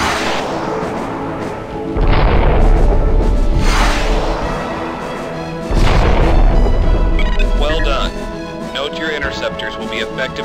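Interceptor missiles slam into a capital ship's weapon subsystem in the space combat game Freespace. Two loud, rumbling booms land about four seconds apart over a steady hum, then warbling electronic tones and chirps follow.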